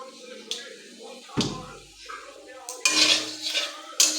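Vegetables are stirred in a pan after bay leaves and chili tempering, giving intermittent metallic scrapes and clinks of a utensil against cookware, with sharper knocks and brief sizzling bursts at moderate volume.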